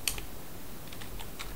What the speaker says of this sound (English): So I am going to type that in